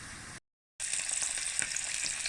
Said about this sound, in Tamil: இப்போ இதுக்குள்ள கத்தரிக்காய் பொரியுது.